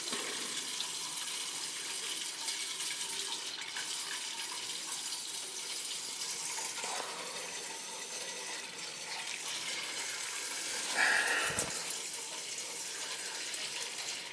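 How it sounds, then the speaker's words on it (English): Water bubbles and gushes out of a home boiler with air in the system, a steady hissing, rushing flow that runs throughout, swelling briefly near the end, with no voices. "See how it's all the water bubbling out of there?"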